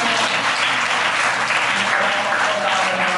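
Loud, sustained applause from a church congregation during a sermon, many hands clapping in a thick, continuous roar that holds steady for several seconds.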